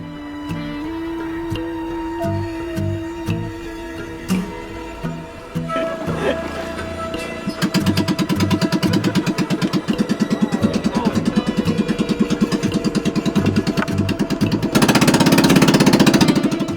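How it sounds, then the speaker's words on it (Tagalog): A single-engine motorized fishing boat chugs steadily nearby on the sea off Ilocos Norte, its rapid pulsing thrum building louder partway through, with a rushing wash of water toward the end. "ti laeng mangigan ket ti agmaymaysa de makina a bangka"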